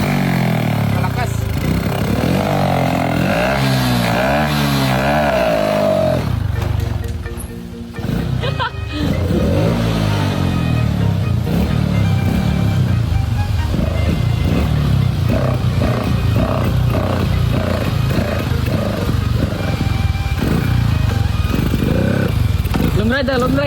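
A motorcycle fitted with a homemade throttle-direct carburetor system revs loudly and close by in rising, warbling bursts, with voices talking over the engine throughout.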